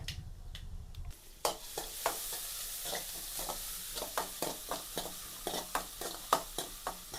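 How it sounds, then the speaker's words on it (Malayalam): Quiet frying sizzles steadily as onions cook in oil after mustard seeds have popped, while a spatula scrapes in regular stirring strokes, roughly twice a second. "കഴിഞ്ഞിട്ടതാണ് നമ്മൾ ഉള്ളി ഇട്ട് കൊടുക്കണ്ടേ"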